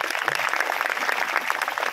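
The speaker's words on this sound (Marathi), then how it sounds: "एक जोरदार टाळ्या वाजवा" A crowd claps steadily at a kirtan festival, a dense patter of many hands applauding at close range without pause.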